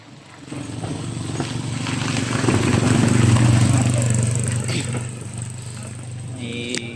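A motorcycle passes along a street, its engine drone swelling to a peak near the middle and then fading as it moves off, with steady background road noise throughout.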